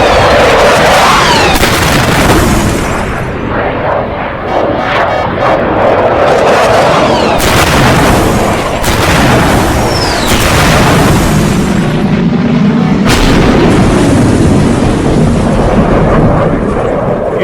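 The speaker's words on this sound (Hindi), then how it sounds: "फाइटर्स ने मिसाइल हिट किए और जाकर टीटीपी चीफ की गाड़ी पर गिरी है" Missile explosions from a fighter jet airstrike on a vehicle, several heavy booming blasts in succession with rumbling, crackling aftermath and loud, dense noise throughout.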